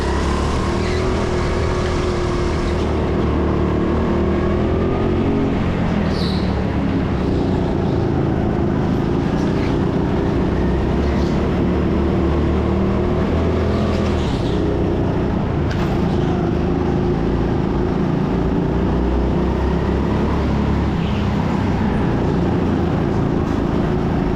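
Go-kart engines at an indoor Sheffield karting track, a loud continuous close-up engine drone from the kart itself that rises and falls in pitch through corners, with other karts buzzing past now and then.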